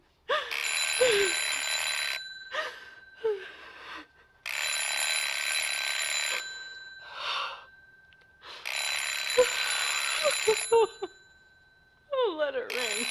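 A telephone bell rings loudly in repeated long bursts, alternating with short pauses.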